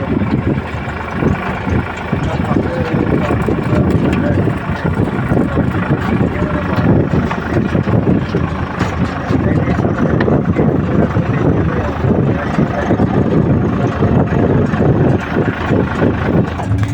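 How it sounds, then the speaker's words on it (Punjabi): A tractor pulling a loaded trolley along a village track, its engine a steady, loud, low rumble that drones on without a break throughout. "ਹੁਣ ਟਰੈਕਟਰ ਲੈ ਕੇ ਚੱਲਾ ਠੀਕ ਹੈ"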